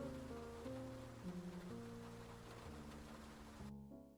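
Night rain from the noir video game Face Noir patters softly and evenly, faint and steady beneath low sustained musical tones, before the music drops away near the end.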